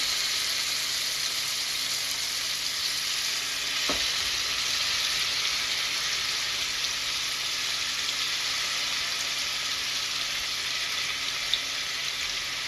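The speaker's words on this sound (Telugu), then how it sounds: "వేసుకున్న చికెన్ని షాలో ఫ్రై చేసుకుంటే సరిపోతుంది." Chicken shallow frying in a pan for masala makes a constant, even sizzle throughout, with a single brief click early on.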